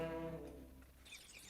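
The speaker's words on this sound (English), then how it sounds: "No, birds." Small birds chirp in a few quick, high tweets near the end, following a brief tonal hum, all fairly faint.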